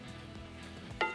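Mushrooms and vegetables in a pan give a low sizzle, with one short metallic scrape of a utensil near the end.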